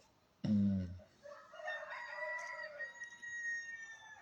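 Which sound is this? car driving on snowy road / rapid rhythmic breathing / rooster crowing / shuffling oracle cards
rooster crowing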